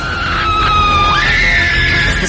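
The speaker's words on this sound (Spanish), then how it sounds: "y sale como un grito" A loud, sustained scream rises and wavers in pitch for a couple of seconds, shrill and close, heard alone without talk.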